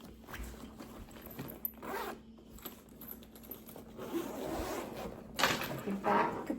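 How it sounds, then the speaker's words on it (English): A zipper is worked on the back-panel pocket of a sewn fabric bag, giving several raspy pulls of varying length, close and fairly loud with short pauses between them. "Our back panel also features a zipper pocket"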